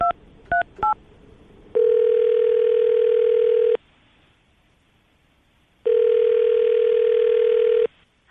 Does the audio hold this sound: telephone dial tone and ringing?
yes